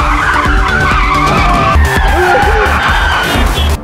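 A car in a drifting chase scene, with a woman at the wheel evading a pursuing vehicle, accelerates hard as its tires skid and squeal loudly and continuously over the steady engine roar.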